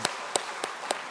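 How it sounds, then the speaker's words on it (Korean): Scattered hand claps from a church congregation welcoming a pastor during a Sunday service, four distinct claps spaced evenly over a second, moderately close against a steady room hum. "박수로 환영하겠습니다"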